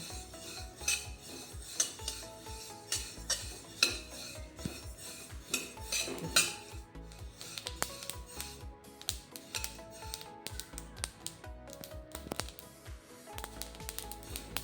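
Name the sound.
stirring sesame seeds roasting in a pan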